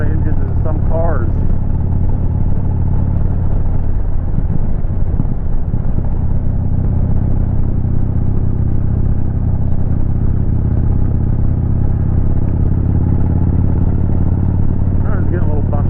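Kawasaki Vulcan 2000 motorcycle engine rumbling steadily while riding, a deep, continuous low drone close to the microphone throughout, with a voice talking over it.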